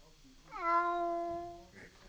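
A house cat gives a single drawn-out meow of about a second, close and fairly loud, falling away at the end, with faint room noise around it.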